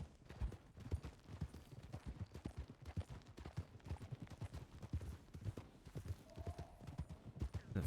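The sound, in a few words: horses trotting in a video game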